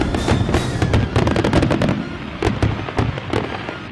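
Fireworks burst in a dense, loud barrage of rapid cracks and booms with crackling, continuing without pause for the whole stretch.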